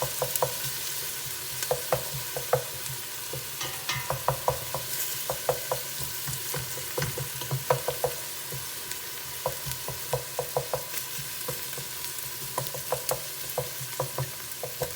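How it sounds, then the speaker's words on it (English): Garlic and onions sauté in a pan with a steady broadband sizzle, punctuated by repeated sharp clicks and scrapes of a utensil stirring, close and moderately loud, with no talking. "I love the smell of the saute of garlic and onions together."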